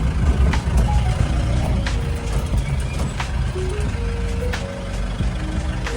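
A tempo, a small truck, maneuvering near a house with its engine rumbling, while a series of short reversing beeps repeats over the steady low drone.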